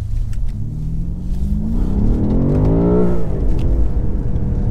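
A 2020 BMW M5 Competition engine revs hard under acceleration, its loud rising note climbing steadily toward the limiter before dropping back, heard close from inside the car with no talking.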